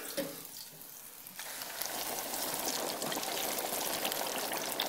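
Buffalo wings deep frying in canola oil at 380 degrees, cooked in small batches of ten to twenty, give a steady, dense sizzle that swells after the first second or so and holds loud and continuous to the end.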